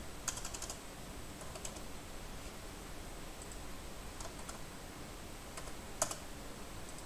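Keyboard typing while working in Creo 7.0 Parametric drawing software, a few quiet clustered bursts of key clicks over steady background hiss, fairly faint and with no talking.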